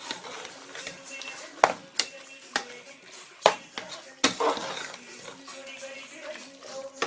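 Biriyani ingredients being stirred in a metal cooking pot, with irregular clanks and scrapes of a ladle against the pot and faint talk in the background.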